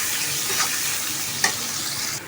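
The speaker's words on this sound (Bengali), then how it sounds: "দেখো আমি পেঁয়াজটা লাল করে ভেজে ফেলছি।" Onions frying in oil in a pan, a steady close sizzle with soft stirring scrapes and a brief louder crackle partway through.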